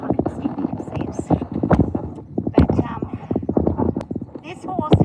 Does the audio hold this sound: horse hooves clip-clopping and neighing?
yes